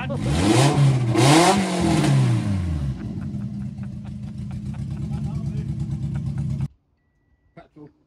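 A car engine revved hard to make smoke, loud rising and falling revs at first, then settling into a rough, pulsing high idle before cutting off abruptly, with people talking over it.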